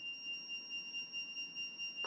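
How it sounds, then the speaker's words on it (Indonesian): A steady, shrill electronic whine from a buzzer powered through a playdough circuit, continuous and unwavering, heard close up over faint background hiss with no voices. "Ini adalah bunyinya sebuah buzzer."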